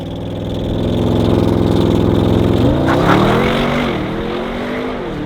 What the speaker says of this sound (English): right foot on the accelerator, launch control program activated, here we go.